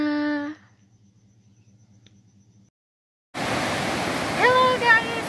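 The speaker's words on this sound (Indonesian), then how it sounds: "kali ini kita sedang berada di air terjun Efrata, yang tepatnya berada di salah satu desa di Kecamatan Pangururan" Efrata waterfall in Pangururan, Indonesia, roars as a loud, steady wash of falling water. It starts abruptly after a brief snatch of music and a moment of silence, and a voice briefly speaks over it.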